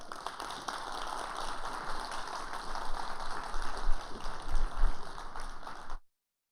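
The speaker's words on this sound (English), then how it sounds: "Let's give another round of applause for Joseph" An audience claps after a TEDx talk, a dense wash of applause with some louder swells in the middle, fading briefly before cutting off into silence.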